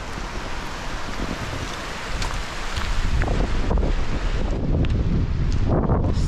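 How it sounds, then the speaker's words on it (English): A river runs below the slate village of Tanygrisiau in Wales, its continuous rushing wash filling the scene with no voices, growing a little louder and rougher partway through, with some wind buffeting the microphone. "You've got the river running here."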